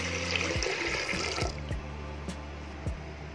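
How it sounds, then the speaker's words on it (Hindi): Half a litre of water pours steadily into a metal pressure cooker with a rushing, splashing sound, a few dull knocks along the way, no voices. "अब इसमें हमें आधा लीटर पानी डालना है"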